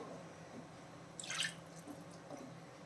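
Water is poured into a pan of capsicum paneer gravy, a brief, faint splash and trickle about a second in, over a quiet kitchen background.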